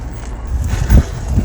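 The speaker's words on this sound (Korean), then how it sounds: "오늘도 바람이 세네요." Strong wind blowing outdoors and buffeting the microphone as a loud, low rumbling roar with a brief heavier gust near the middle.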